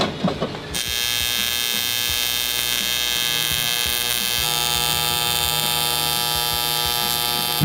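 TIG welder with the tungsten stuck far out and low gas flow, tacking a joint on the Hoonicorn race car: a steady, loud electric buzz with a dense hum that runs without a break after a short rustle at the start.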